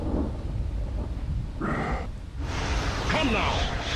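A rolling thunder ability effect in Dota 2 rumbles low and heavy through the whole moment, with a voice talking over it and a rushing crackle near the end.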